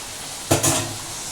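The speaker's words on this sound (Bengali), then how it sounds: "এখানে দেখো আমার এই চিকেনটাকে নাড়াচাড়া করছি" Chicken being stirred in a cooking pan, two quick scraping clatters of utensil against metal over a soft sizzle, close and brief.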